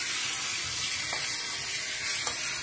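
Steady, soft sizzling and crackle of asafoetida and spices frying in hot oil for a dal tempering, a continuous hiss with a couple of faint clinks.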